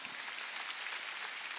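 A church congregation at a Wednesday worship service claps in a dense, steady burst of applause, moderately loud and even throughout.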